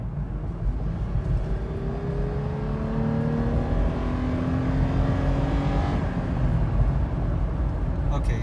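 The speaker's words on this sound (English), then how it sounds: "Now I'm gonna floor it." A Toyota 4Runner SUV engine with a TRD cold air intake revs up hard at full throttle, its pitch climbing steadily for several seconds, then dropping briefly as it shifts before pulling again.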